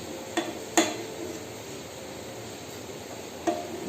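Langcha sweets fry in hot oil with a steady, dense sizzling hiss, while a few sharp clinks of a metal ladle against the pan punctuate the sound as they are lifted out.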